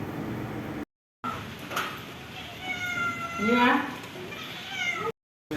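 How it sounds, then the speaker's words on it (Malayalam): A cat meows nearby, a few drawn-out, rising and falling cries with short pauses between. "ഇത് ഞങ്ങളുടെ വീട്ടിലെ പൂച്ച"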